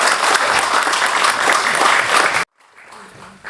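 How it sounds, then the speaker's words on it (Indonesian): Applause at the closing ceremony of the Piala Presiden 2025 football tournament in Indonesia: a dense, loud burst of clapping from a crowd that cuts off abruptly, followed by quieter room sound. "Tepuk tangan buat kita semua."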